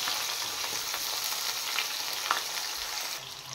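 Thinly sliced radish and potato fry in a pan with a loud, even sizzle that runs the whole time, with faint stirring scrapes on top.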